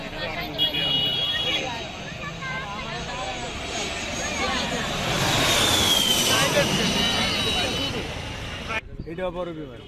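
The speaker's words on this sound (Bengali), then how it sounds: "জি ওয়ান হান্ড্রেড মডেলের এই প্রাইভেট জেটটি এখন অবতরণের জন্য এগিয়ে আসছে" A Gulfstream G100 private jet approaches to land near Uttara, its broad engine roar building and swelling to a peak before easing off, with a person talking steadily over the noise.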